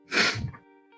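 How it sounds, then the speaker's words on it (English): A single close, sharp human sneeze bursts out and fades quickly into a short breathy tail, with no speech around it. "you sneezed on the delay"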